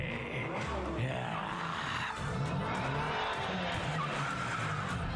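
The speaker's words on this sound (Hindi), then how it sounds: "यहाँ से गाड़ी, वहाँ से गाड़ी, हर तरफ से गाड़ी ही गाड़ी।" Cars skid and screech through a cartoon chase, with continuous tire squeals and engine roar layered densely at steady loudness throughout, and several screeches overlapping one another.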